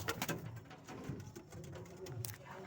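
A black checkered pigeon coos softly inside a training box, low murmuring calls with a few fluttery pats and faint background noise, rather quiet overall.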